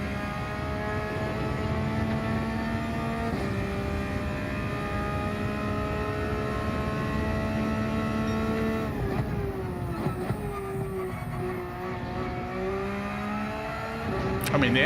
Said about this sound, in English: I mean, the engine sound is so nice.